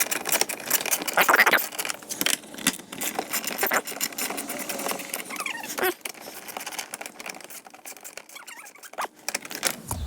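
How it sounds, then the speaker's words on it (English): Ratchet clicks in quick, uneven bursts while removing window switch screws on a GMC Sierra door panel, close and fairly loud with small metallic taps between runs. "Well, if we get our ratchet going the right way."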